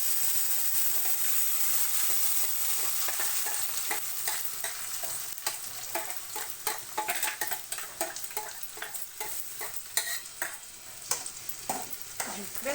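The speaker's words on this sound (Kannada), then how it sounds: "ಸ್ವಲ್ಪ ಎಣ್ಣೆಯಲ್ಲಿ ಇದನ್ನು ಫ್ರೈ ಮಾಡ್ಕೋಬೇಕು" Ground tomato, onion and green chilli paste frying in oil for green chilli egg curry: a dense sizzle that gives way to quick, repeated spatula scrapes and clicks against the pan, close and busy throughout.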